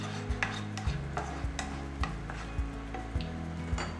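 Garlic and hing frying in a pan for spiced taco beans, stirred with a utensil: a steady low sizzle under regular scraping knocks about every half second, close and quiet, with no talking.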